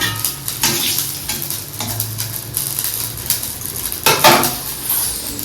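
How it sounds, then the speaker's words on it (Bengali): Brinjal goes into hot oil in a pan where fish was just fried, giving a close sizzle with clattering pan and utensil knocks and a louder burst of frying near the end. "আর এই তেলের মধ্যেই বেগুনটাকে ছেড়ে দেবো"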